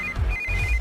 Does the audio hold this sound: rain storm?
no